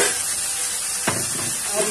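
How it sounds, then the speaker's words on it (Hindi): Rice goes into a pan of fried spices for veg pulao, with a steady hiss of frying and a brief, soft rush as the grains land. "आप चावल को इसमें डालिए"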